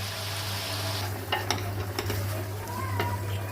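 A utensil scrapes and stirs through chicken frying with onions and spices in a pan over a constant sizzle and low hum, with a few sharp knocks against the pan.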